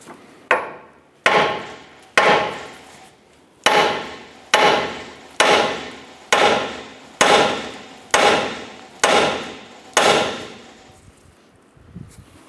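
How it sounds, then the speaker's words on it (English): A hammer strikes the lower control arm of a 2008-2012 Honda Accord to separate the ball joint from the knuckle. About eleven loud, close metallic blows land at an even, roughly one-per-second rhythm, each ringing briefly before the next. "we're going to strike the lower control arm right here to go ahead and separate the knuckle ball joint from the control arm"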